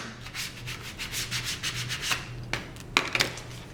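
A paper piece being burnished down onto a handmade autumn card: close, steady rubbing strokes in a repeating back-and-forth rhythm, with a few sharper scrapes near the end, and no talk.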